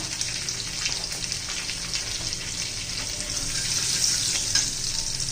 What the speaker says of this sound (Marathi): छान मस्त असा तडका झाला पाहिजे बसला पाहिजे असं थोडा लसूण ब्राऊन झाला पाहिजे हिंग घालू थोडासा